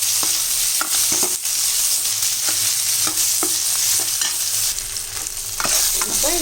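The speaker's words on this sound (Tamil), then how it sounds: "3 தக்காளி அரிஞ்சிருக்கோம், அதையும் இதிலே போட்டுடலாம். அதுவும் நல்லா வதங்கட்டும்." Three chopped medium tomatoes sizzle and fry loudly in a pan for a mutton curry, with a continuous hiss broken by occasional spoon scrapes and stirring clinks.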